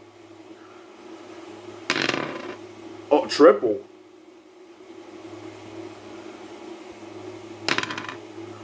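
Dice rattle and clatter in a brief burst during a tabletop army men battle game, with voices talking before and after.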